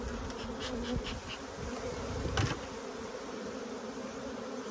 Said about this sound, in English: Plenty of bees. Look at that.